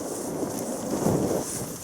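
Heavy wind buffets the microphone out on exposed Dartmoor moorland during a wild camp, a steady low roar and rumble that swells and surges near the middle with no voices.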